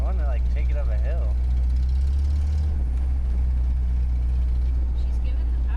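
A 1987 Nissan D21 truck engine running with a bad exhaust, a loud low steady rumble heard from inside the cab, with people talking over it.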